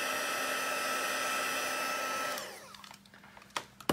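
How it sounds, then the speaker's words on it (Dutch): Hair dryer drying paint on a canvas, a steady whirring blow that runs for over two seconds, then is switched off and winds down, leaving a few faint clicks and handling sounds. "Ik doe het eventjes met de föhn aanzetten."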